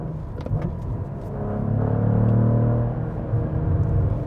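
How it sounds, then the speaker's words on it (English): A Cadillac CT4-V Blackwing engine blips its revs up and settles back during a rev-matched downshift, a rising then falling rumble heard from inside the cabin. "I do personally love the rev match downshifts because you can just do that."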